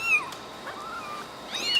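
A young kitten meowing during bottle or syringe feeding, a few thin, high, close cries with short pauses between them.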